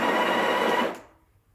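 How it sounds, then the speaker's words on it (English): A Breville Barista Express BES870 grinds coffee beans in a loud, close burst of about a second, then quickly winds down into silence. "because I changed the grind size now, I'm gonna grind a bit,"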